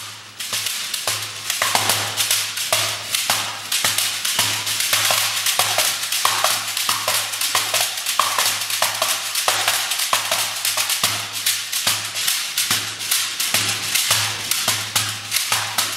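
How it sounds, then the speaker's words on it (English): A shekere, a dried West African gourd covered in a woven net of beads, is shaken in a steady rhythmic pattern, giving a bright, dense rattling swish on each stroke, loud and close throughout with no talking. "This is the sound of shekere."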